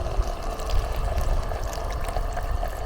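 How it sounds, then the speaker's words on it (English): Filtered stream water pours in a steady, gentle stream into a cooking pot of onions at a campsite, a soft continuous splash with no talking. "I'm gonna add water."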